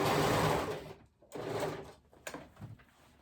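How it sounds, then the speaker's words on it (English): A sewing machine or serger sews the curved seam of a pair of overalls, running in two steady loud bursts with a short pause between, then slowing into a few shorter stitches at the end. "Right sides together, sew the curve. Again, you can do serger or sew machine."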